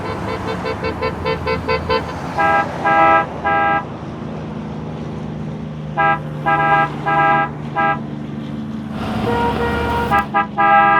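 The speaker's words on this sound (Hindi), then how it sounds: "अरे गाड़ी का हॉर्न सुनाई नहीं दे रहा क्या?" A car horn honks repeatedly in a street, sounding in insistent clusters of short toots and longer blasts, loud and close, over a low traffic rumble.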